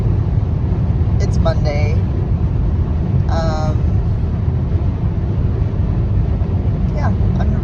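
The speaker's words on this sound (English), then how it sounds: "I'm driving into work." Steady low rumble of a car driving on the road to work, heard from inside the cabin, with a person talking over the constant road noise.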